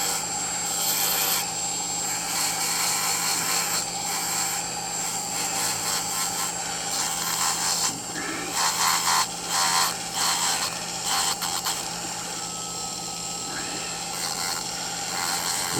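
Dendraster gibbsii sand dollar fossils from Southern California are polished against a powered abrasive, giving continuous loud rubbing and grinding over a motor drone, with the intensity rising and falling as the pieces shift.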